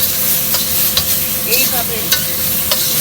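Smashed bottle gourd stir-frying in a wok, giving a steady close sizzle with scraping stirs of a spatula at intervals. A voice speaks briefly over the cooking.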